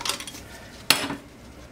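A lid goes onto a glass canning jar as leftovers are put up: one crisp metallic clink near the middle, close and fairly soft, followed by a short rattle as it settles.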